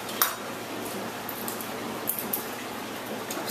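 A knife clicks and taps against a cutting board or dish while Philadelphia cream cheese is cut up for a food processor, with a few sparse light knocks over a quiet kitchen hiss.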